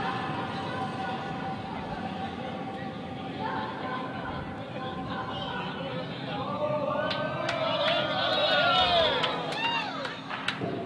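A lively keg curling crowd chatters and calls out in a continuous hubbub, with excited voices rising and overlapping toward the end as cheers break out.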